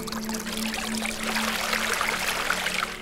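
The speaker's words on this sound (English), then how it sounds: "Water pouring from an intercom?" Water pours and trickles steadily from an intercom in a puzzle adventure game set at Mud Water Creek, a continuous splashing stream heard alone at moderate level with a faint low hum beneath.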